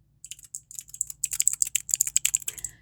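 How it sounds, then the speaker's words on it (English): Quick, crisp clicking of a keyboard switch on a keychain, a fast irregular run of sharp close clicks heard alone in a quiet room. "Clicky keychains are little switches that you use to make keyboards happen, but you put them in a keychain instead"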